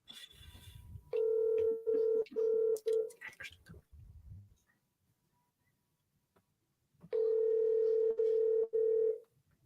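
A telephone ringing out after being dialed, the steady ringback tone sounding in repeated long bursts, pausing in silence, then returning for another series of tones; brief background talk and noise come before the first burst.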